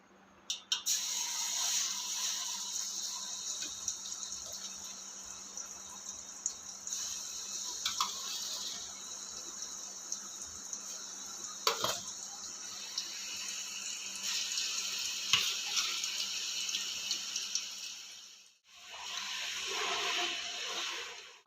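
Green chillies frying in half a kilo of hot oil for homemade Schezwan chutney, a steady close hiss and crackle that runs throughout with a few sharper pops, briefly dipping near the end before resuming.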